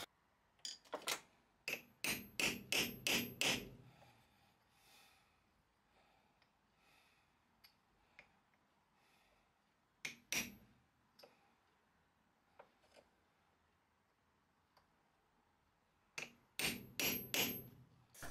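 Sharp hammer blows on a punch denting a soft copper ferrule on a handmade file handle, struck in two quick bursts of rapid close taps at the start and end with a few isolated knocks between.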